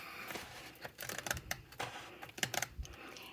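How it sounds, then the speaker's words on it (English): Scissors snip through contact paper along a line, producing quiet, close, crisp clicks and cuts in an irregular rhythm, with no speech. "So I'm just going to take a quick pair of scissors"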